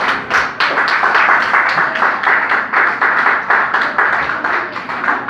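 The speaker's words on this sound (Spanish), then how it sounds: "Denle un fuerte aplauso a Cristo Jesús." A church congregation claps loudly and steadily for Cristo Jesús, a dense, sustained round of applause with rhythmic pulses running all the way through.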